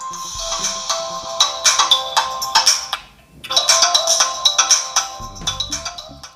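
Music plays through the small built-in speaker of a Rogbid Tank S2 military-grade smartwatch, a bright, thin, tinny melody in two phrases with a brief gap between them, heard alone at moderate loudness.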